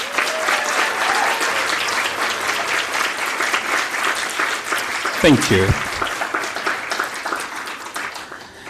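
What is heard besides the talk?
audience applause for award nominees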